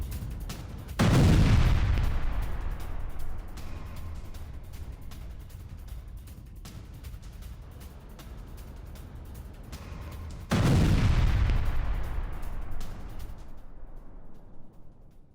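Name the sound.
explosion footage from western Tehran, Chitgar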